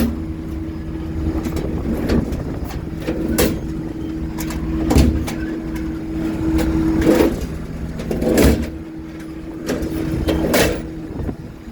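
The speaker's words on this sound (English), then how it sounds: "That drawer needs to be cleaned and oiled for sure." A toolbox drawer on a 2011 Ford F750 service truck, dirty and in need of oil, scrapes open and shut several times in rough, uneven slides over a steady low hum.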